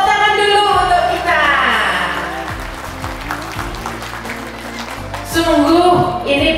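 Applause at a Tahfidz grade 3 school graduation ceremony, steady crowd clapping mixed with music playing and a voice speaking over it, clapping rising again near the end.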